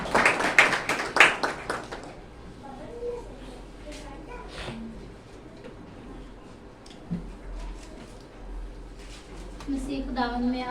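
A congregation claps to welcome a sister speaker at a Christian gathering, with a burst of applause over the first two seconds, then quieter scattered sounds and a voice speaking toward the end.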